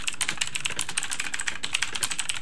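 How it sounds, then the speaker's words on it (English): Steady, rapid clicking on a computer keyboard during an online game session, with a quick irregular rhythm of sharp keystrokes at moderate distance and no voices. "Clicking."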